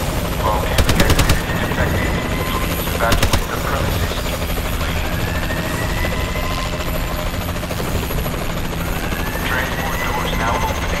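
Warbird gunship in Call of Duty: Advanced Warfare multiplayer, a steady helicopter-like rotor and engine drone throughout, with two short bursts of rapid gunfire near the start and faint game voices underneath.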